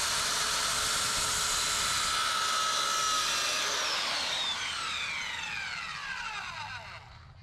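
A power drill whines steadily at high speed during a shop build with 2x12 lumber, loud and close, then winds down with a falling pitch as the trigger is released.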